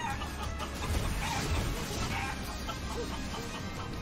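Chickens clucking in the Badlands of the Guacamelee 2 video game, scattered soft clucks and fowl chatter over a dense, steady game ambience, moderately loud and continuous.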